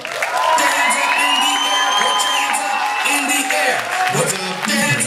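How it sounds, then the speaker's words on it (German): Crowd cheering, whooping and applauding at a 2012 German street dance battle, a loud, sustained roar of many voices with shouts rising over the top for the whole stretch, while an announcer's voice is heard through it. "Euer Applaus bitte für Jamal."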